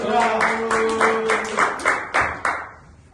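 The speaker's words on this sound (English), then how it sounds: "Give applause to Arindra." A short round of clapping from a small group in a young learners' classroom, loud and close, fading into a few scattered final claps.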